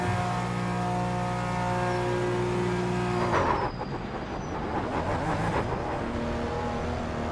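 Race car in a racing video game starts up, with a steady engine drone giving way to a rev and rising whine partway through, loud and continuous with no talking.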